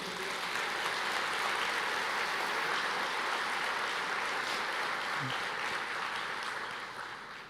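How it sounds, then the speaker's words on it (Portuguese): A church congregation applauds during a sermon, a faint, even wash of clapping that holds steady and then tapers off near the end. "vamos aplaudir ao Senhor"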